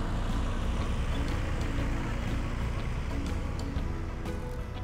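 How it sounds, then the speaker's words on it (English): A tractor engine runs on a farm. It gives a steady, dense, continuous mechanical rumble with a faint rattling texture, holding at an even level throughout without pauses. "It's a tractor."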